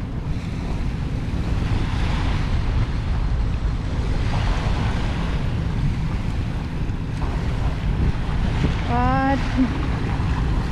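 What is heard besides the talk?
rough waves and strong wind at Manila Bay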